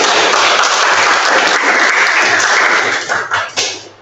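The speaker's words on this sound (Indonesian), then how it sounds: "tepuk tangan dong" Students in a school classroom lesson clap loudly together in a thick, energetic burst of applause that stays strong, then breaks up into a few scattered, separate claps before fading out.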